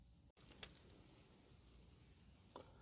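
Keys to a Rolls-Royce Silver Spirit III jangling close by, a couple of brief bright metallic clinks against a quiet background, with a faint second rattle moments later.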